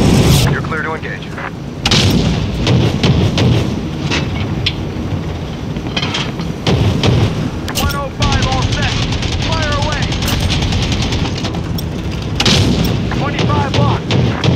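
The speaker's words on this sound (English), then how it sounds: "Close air support on my position." Close air support strike in Call of Duty Modern Warfare multiplayer: heavy repeated booming explosions and bursts of gunfire with aircraft rumble, loud and close, under clipped radio voices.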